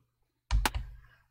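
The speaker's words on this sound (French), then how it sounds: "dès que je vais appuyer sur la touche étoile du clavier numérique" A single key press on the star key of a computer's numeric keypad, heard as one sharp, close plastic click with a soft thud after it, alone in a quiet room.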